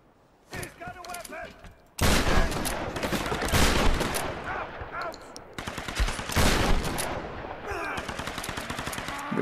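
Gunfire in the Tomb Raider game, several loud, dense bursts of rapid automatic shots separated by brief pauses, close and harsh, with faint voice sounds mixed in.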